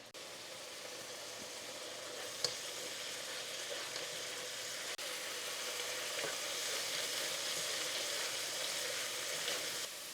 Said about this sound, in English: It's gonna sound like it's boiling, and then it's gonna sound like it's frying.